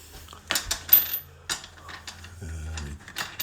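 Wheel fasteners on a toy zero-turn ride-on mower are tightened in a string of close, sharp plastic clicks and ratcheting taps with short pauses between bursts, alone with no talk.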